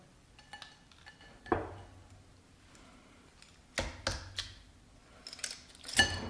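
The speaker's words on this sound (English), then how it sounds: "A tablespoon of this crust and just add it to our muffin tin." A tablespoon scoops keto cheesecake crust into a muffin tin, giving a few scattered light metallic clinks and taps close by, alone and without talk.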